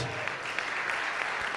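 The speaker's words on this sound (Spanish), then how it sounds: "Dan un aplauso al Señor" A church congregation applauding during a sermon: a brief burst of dense, steady clapping from many hands, filling the room at an even level.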